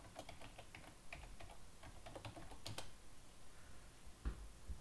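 Rapid, quiet clatter of keys as a password is typed on a computer keyboard, irregular clicks running throughout with a slightly louder tap near the end; no talking.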